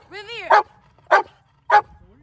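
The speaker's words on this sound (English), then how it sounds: "we do have Rambo, the iguana hunting dog, just for backup as well" An iguana hunting dog gives three short, loud barks evenly spaced about half a second apart, with a brief whine or voice-like sound before the first.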